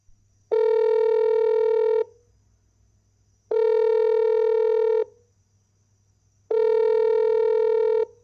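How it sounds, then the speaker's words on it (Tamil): Phone call ringing out unanswered: three long, evenly spaced electronic ring tones, each about one and a half seconds, separated by short silences over a faint low hum, loud and close with no talk. "என்ன ஃபோன் ரிங்கு ஃபுல்லாக போகுது, ஆனால் அட்டன் பண்ண மாட்டேங்கிறான்."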